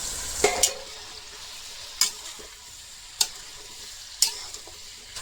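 Potato and pumpkin pieces frying in a pan, a soft continuous sizzle punctuated by four or five sharp stirring scrapes at regular intervals, close by.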